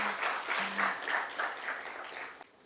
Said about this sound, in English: let's have a thunderous round of applause for GNG Electronics Limited